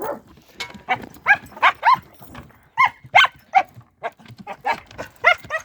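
A West Siberian Laika dog barks repeatedly in short, sharp yelps, irregular and close, with brief pauses between bursts.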